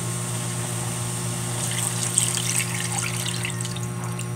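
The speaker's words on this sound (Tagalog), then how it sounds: "Lalagay na po natin dyan ang ating gata." Coconut milk poured into a simmering pan of fish paksiw, giving a soft liquid trickle and splatter that builds midway over a steady low hum, close and moderately loud, without talk.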